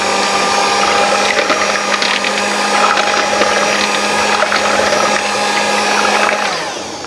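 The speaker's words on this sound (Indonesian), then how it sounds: "Ini aku kocok dulu sebentar sampai tercampur." Eggs being beaten for a sponge cake batter with an electric mixer, a loud continuous whirring motor drone with rattling beaters, holding steady for several seconds before winding down at the end.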